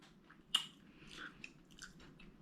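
Close, quiet chewing of roasted Brussels sprouts, seasoned with pepper flakes, opens with a crisp bite and continues as soft, irregular crunches and mouth sounds with no talking.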